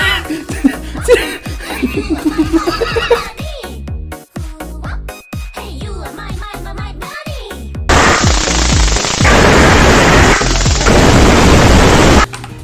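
Rainbow Six Siege gunfire bursts out amid laughter and talk, then a loud sustained rattle of automatic fire dominates the final seconds.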